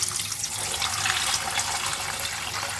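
Stinging catfish (shing fish) being rinsed with salt and water, a continuous splashing, running-water wash close by, fairly loud and steady throughout, with no speech.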